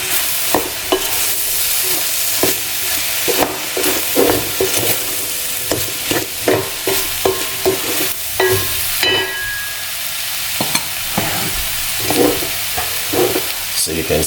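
Chickpeas are stirred and fried in a pan, with a bright sizzle under rhythmic scraping and clattering of the spoon, close and fairly loud, repeating in bursts throughout.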